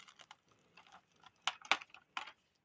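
Adhesive tape stuck on paper is pulled apart by its edges, giving a quiet run of short, crackly ticks and a few sharper snapping bursts near the end, with no voices.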